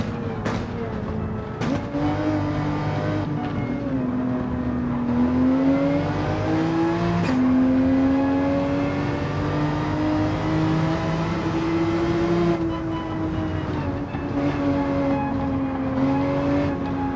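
A race car engine at Deep Forest, Switzerland, in a video game, holding a loud, close, sustained whine whose pitch rises and falls gently as the car accelerates and eases through the course, with faint talk underneath.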